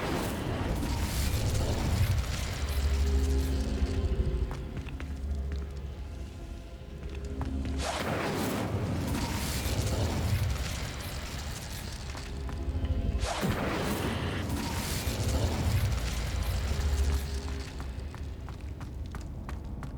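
Confringo and Incendio spell blasts in the Hogwarts Legacy video game land as three booming, whooshing bursts spaced several seconds apart, each flaring loud then decaying into a rumbling, roaring tail.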